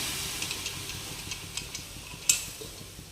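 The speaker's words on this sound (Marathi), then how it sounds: "आता टोमॅटो छान परतलाय तर हे राजमा तो पाण्यासकट टाकून घ्यायचा आहे आपल्याला" Kidney beans tipped with their water into a pan of sautéed tomatoes over full heat, giving a soft stirring and sizzling hiss with light clicks and one sharper clatter near the end, no talk.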